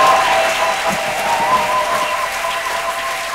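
A church congregation claps in sustained, dense applause, loud and close, with faint voices mixed in, steady across the whole stretch.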